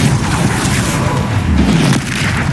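A heavy Depulso spell impact from Hogwarts Legacy lands as a loud, deep boom with a rumbling crash that fills a short burst of dense game combat noise.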